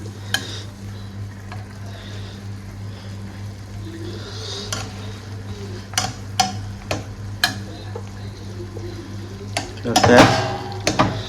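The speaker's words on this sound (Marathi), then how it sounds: "त्याच्यासोबत जरा पावाचं मस्त भाजून घेतो" Pav bread toasted in paneer ghotala masala in a pan, with soft sizzling under scattered sharp scrapes and taps of a utensil against the pan, getting busier toward the end over a steady low hum.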